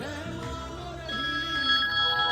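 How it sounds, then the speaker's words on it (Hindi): A telephone rings with a steady electronic tone that grows louder over a couple of seconds, over a quiet underlying hum. "किसका फोन है?"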